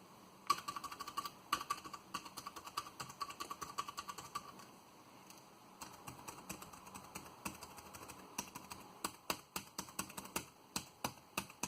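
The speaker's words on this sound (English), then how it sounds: "let me still give you a comparison of how they sound, how the keys sound on this keyboard" Keys on a TeckNet or JETech computer keyboard are pressed one at a time, then in quick runs of clicky taps, close and fairly quiet with short gaps between presses.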